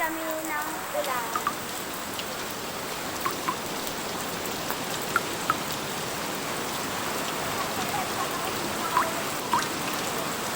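Steady rain falls outdoors in Mindoro, a dense, even hiss of drops with occasional faint drips and distant sounds under the wash, holding constant throughout.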